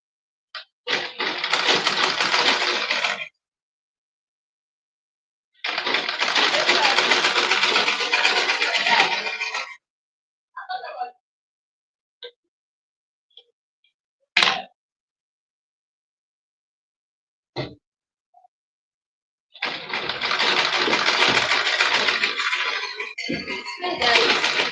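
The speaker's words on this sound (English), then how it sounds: "I'll be stitching a little bit below the thin line I used in joining." Sewing machine stitching an Ankara gown: three long bursts of fast, steady mechanical whirring, with pauses between them filled by brief clicks and snaps of handling the fabric and machine, close and loud.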